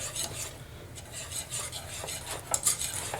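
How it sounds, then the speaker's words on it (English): A whisk beating roux for bechamel sauce in a pan, producing rapid rhythmic scraping and rasping strokes against the metal, close and steady, with no speech. "move to a whisk. Makes things much easier to mix together."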